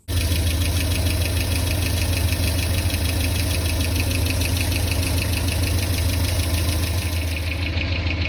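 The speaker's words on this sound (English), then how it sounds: "Got it running." A Ford Econovan van engine starts and settles into a steady running idle after a fuel pump fix, loud and close, with a constant rough mechanical hum and clatter throughout, and no voices.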